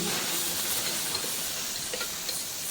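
Onion and tomato sautéing in a pan with cloves and cinnamon for a spinach soup, a steady broadband hiss and sizzle running throughout with faint stirring ticks, close and continuous, no talking.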